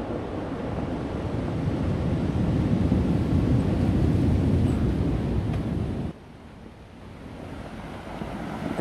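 Surf breaking on a beach, a steady loud roar of waves washing high up the sand, with wind noise on the microphone, easing briefly near the end before swelling again.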